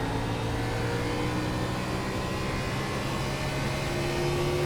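An Xfinity stock car engine in iRacing holds a steady, droning hum at constant speed on a hot Richmond track, the sound continuous and even throughout with no voices.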